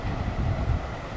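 A CSX freight train rumbles past near its rear end, where a DPU locomotive sits a few cars from the end, giving a low, steady rolling roar of wheels and cars.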